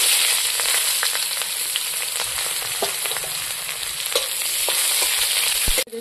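Onion, green chili and bay leaf sizzle in oil in a pan, with a steady loud hiss and sharp spattering pops, ending in a brief stir near the close.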